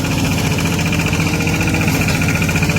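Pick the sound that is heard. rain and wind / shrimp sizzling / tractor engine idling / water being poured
tractor engine idling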